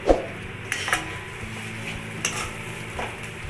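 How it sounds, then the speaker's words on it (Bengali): Lote fish jhuri fries in a pan with garam masala, a steady low sizzle broken by repeated scraping and clinking stirs of a spatula against the metal, no voices. "আমি আরেকটু ভাজা ভাজা করে নেব"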